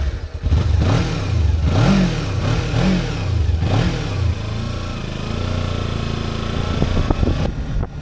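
Stock exhaust of a Kawasaki Ninja 300 Special Edition motorcycle revving up repeatedly in sharp close blips, then settling into a steady idle rumble.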